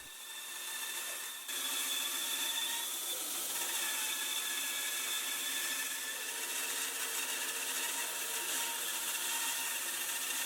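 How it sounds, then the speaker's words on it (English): A cheap Ferrex bandsaw cuts through a wooden post, a steady whining buzz of the blade in wood that starts quieter, then settles into a sustained, fairly loud cutting drone for the rest of the clip. "My cheap Ferrex bandsaw is the perfect tool to use to cut this post"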